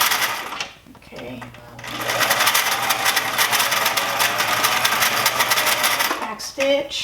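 A sewing machine back stitches a garment sleeve seam, a brief close run followed by a steady mechanical whir lasting several seconds, with a voice speaking briefly near the start and end.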